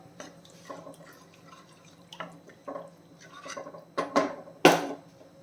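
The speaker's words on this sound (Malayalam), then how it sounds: "ഗ്രേവി തിളയ്ക്കുന്നുണ്ട്" Kerala-style crab curry gravy bubbling in a pot, with soft irregular plops and pops at uneven intervals, quiet and close, the last few bursts louder.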